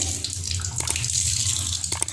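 Water streaming and splashing as a soaked cloth is wrung out over an idli steamer plate while making idiyappam, a close trickling gush with brief spatters.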